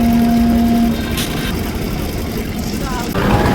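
Steady droning engine of a passenger trawler boat under way near a ferry ghat, loud and continuous throughout with background noise.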